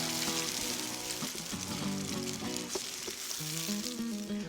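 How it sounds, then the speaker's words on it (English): A tomato mixture cooks down in oil toward a thick, paste-like consistency, giving a steady close sizzle and crackle that runs throughout, with faint tonal hums layered underneath and no speech. "While this tomato mixture is cooking down"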